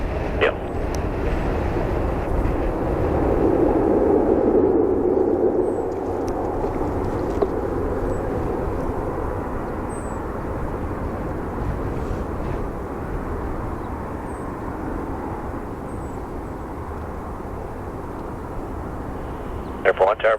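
An airplane taking off from runway 35 left at Calgary's YYC airport, a broad distant engine roar that swells and then fades, heard under tower radio chatter and voices.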